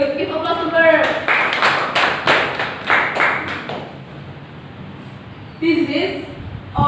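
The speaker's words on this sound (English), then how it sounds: "Okay, good. Give applause to her." A classroom of students applauds a classmate during a cooking-ingredients lesson, a burst of brisk claps for about three seconds that thins out, with a teacher's voice heard briefly before and after.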